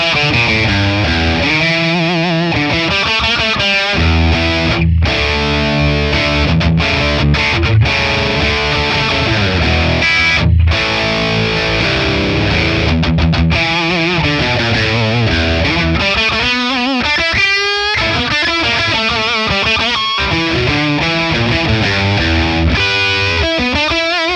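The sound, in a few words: high-gain guitar through ToneX ONE FRAM amp capture, scooped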